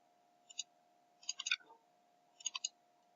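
Computer mouse clicks in small groups, a pair and then two quick triple bursts, crisp and close against a steady low electrical hum, with no talking.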